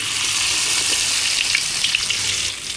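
Garlic and salted fish frying in hot oil, a loud continuous hiss and crackle of sizzling close up, steady throughout with occasional spitting pops.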